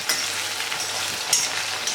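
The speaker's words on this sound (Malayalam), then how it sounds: "ബാക്കിയുള്ള കോവയ്ക്ക ഇതുപോലെ തന്നെ വറുത്തെടുക്കാം" Ivy gourd (kovakka) pieces fry in hot oil in a pan, a close, steady sizzle and crackle running throughout.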